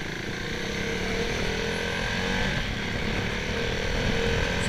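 A KTM Duke 390 motorcycle is ridden fast with late braking and sudden downshifts. Its engine drones steadily and loudly from up close, mixed with heavy wind rush, and no one speaks.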